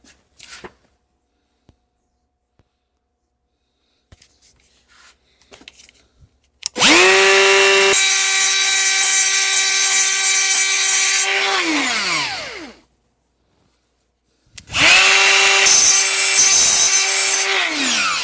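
High-speed die grinder with a coarse abrasive roll porting a Vortec cylinder head for a 400 small-block Chevy, whining loud and close for about six seconds, spinning down, then starting again; faint handling noises before.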